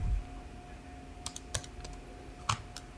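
Keys tapped on a ruler calculator during a math lesson, a handful of light, quick plastic clicks spaced irregularly over a quiet hum, with no talking.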